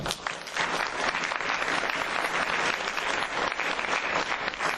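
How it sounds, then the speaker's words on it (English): An audience at an opening ceremony applauds in a sustained, dense burst of clapping from many hands, loud and even from start to finish with no voices standing out. "So please join me in giving them a round of applause"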